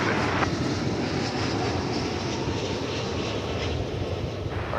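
A heavy Airbus airliner lands on runway 18 right at Dallas Fort Worth airport, a steady broad jet roar that holds strong throughout with no pauses.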